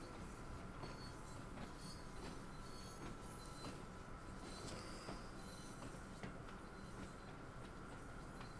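A train in the Train Sim World 2 game rolls slowly into a colliery siding, with a steady rumble of wheels, rhythmic clicking over rail joints and occasional squeals, fairly quiet and continuous with no talk.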